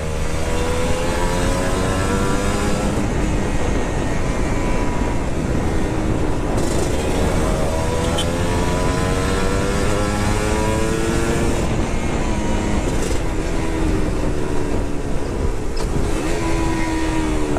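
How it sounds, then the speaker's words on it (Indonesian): Kawasaki Ninja RR Super Mulus motorcycle engine on a test ride, a loud sustained two-stroke drone rising and falling in pitch as it revs and shifts, with heavy wind rush throughout. "Suara mesin juga kali bisa denger sendiri lah,"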